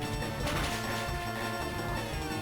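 A Pokemon FireRed battle attack lands with a dense crashing smash over the game's steady music, a short loud hit-sound effect with no talk.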